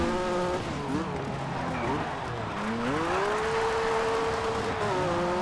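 Rally car engine in the racing game Colin McRae Dirt 2, a steady whining drone with rising and falling pitch as it accelerates and shifts, continuous and fairly close beneath people talking.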